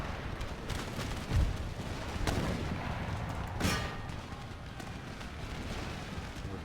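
Artillery in Empire Total War, modded with Darthmod, firing canister shot across a battlefield: a muffled booming volley with several sharp reports and rolling rumble amid background battle noise, at moderate distance.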